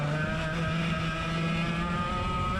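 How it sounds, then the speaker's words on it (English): A line of 100cc club racing karts sweeps past the finish line at the end of an opening lap, a steady, loud, overlapping engine drone with no pauses. "you get a good look at all the lines of karts coming through to finish"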